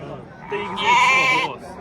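A sheep bleats once at a livestock market, a loud wavering cry rising over a low murmur of voices and farmyard background.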